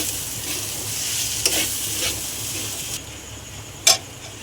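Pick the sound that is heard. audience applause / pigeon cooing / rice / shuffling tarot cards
rice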